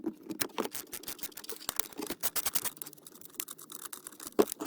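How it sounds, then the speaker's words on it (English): A ratchet wrench clicks in quick, uneven bursts while loosening a bolt on a Subaru SVX time control unit, close and fairly quiet, with a few sharper metallic knocks mixed in. "So let's try unbolting this first."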